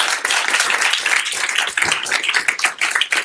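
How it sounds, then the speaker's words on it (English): An audience at a Harvard Graduate School of Education leadership event claps in a dense, lively round of applause. The sharp individual claps are close and fill the room steadily for several seconds, with no talking over them. "we should give them a round of applause"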